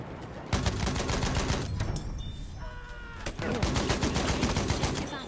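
Sniper rifle fire in a video game firefight: a loud run of sharp, rapid shots with a brief lull in the middle before the shooting picks up again.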